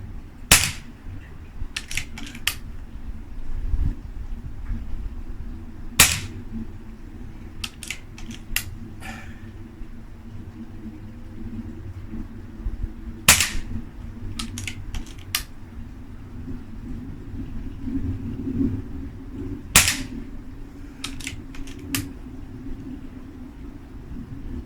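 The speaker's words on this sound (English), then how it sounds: "I think the first shot on that target was bad pellet because it went way to the right." Air rifle pellet shots fired at a target outdoors, heard as five or six sharp, fairly loud cracks spaced several seconds apart, each followed by faint ticks, over a steady low background rumble.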